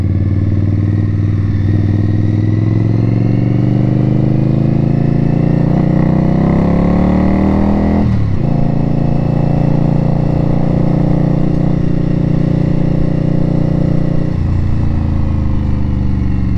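A loud 2018 Indian Scout Bobber motorcycle engine drones steadily nearby, its pitch rising and dipping as it revs, with a brief shift in tone midway.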